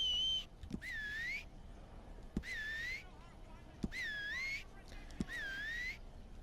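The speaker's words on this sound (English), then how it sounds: "So that sounds just about how someone's whistle would sound if they had teeth like this" A Red Dead Redemption 2 character with badly damaged teeth whistles a wavering, airy tune in four separate phrases, each rising and bending, with faint clicks between them and no talking.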